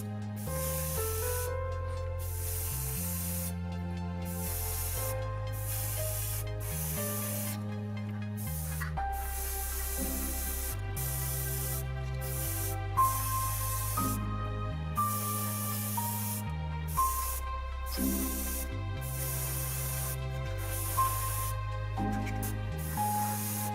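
An airbrush sprays VMS No-Peel primer through a fine 0.2 mm nozzle at 20 to 40 psi onto a scale model, giving a steady, continuous hiss beneath louder background music.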